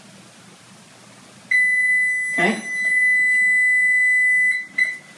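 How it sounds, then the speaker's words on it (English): Kitchen timer beeping while rice cooks on a stove: a sustained electronic beep tone runs for about three seconds, loud and close, followed by a short extra bleep, with a brief spoken word in between. "And we're going to hear the beep."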